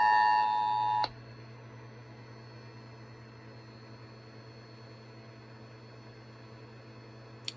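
An Emergency Alert System administrative message opens with a loud, steady electronic alert tone lasting about a second. It cuts off abruptly and is followed by a low, constant hum with a faint click at the end.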